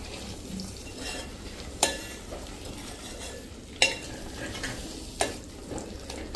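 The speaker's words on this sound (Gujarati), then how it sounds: "તો હવે આને આપણે મિક્સ કરી લેશું આ રીતે." A spoon stirs onion curry sizzling in a pan, with scraping and four sharp metallic clanks against the pan at uneven intervals.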